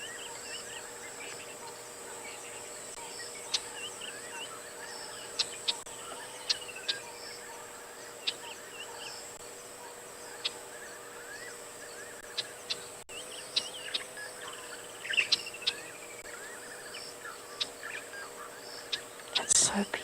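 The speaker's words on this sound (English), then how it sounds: "You can hear fiery-necked nightjars and all sorts of other birds." Fiery-necked nightjars and other birds calling at sunset on an African safari, scattered chirps and whistles over a constant insect drone, mostly faint and distant with a few closer calls toward the end, soft talk underneath.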